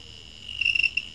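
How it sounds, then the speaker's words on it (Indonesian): A faulty set-top box's emergency-alert buzzer chirps steadily, high-pitched, in a trilling, cricket-like pattern over a quiet low hum. "seperti jangkrik ada buzzernya ini bunyi"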